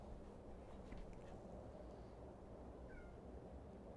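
A house cat meows at a closed door, wanting to be let in; a couple of faint, brief mews come over steady low background noise, with no talking.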